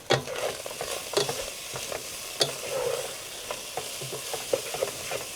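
Ground meat browning in a pan for shepherd's pie, cooked off-grid: a steady close sizzle broken by repeated scraping stirs and clicks from the utensil, with no voices.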